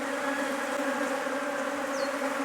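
Defensive honey bees at a top bar hive produce a steady, close, droning buzz of many insects, holding an even pitch and loudness, with one brief higher whine passing near the end.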